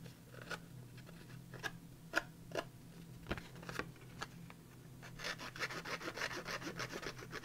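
The edge of a handmade paper card is roughed up with quick scraping strokes, a series of crisp rasping rubs at irregular intervals that turns into a denser, faster scratching toward the end, close and fairly quiet.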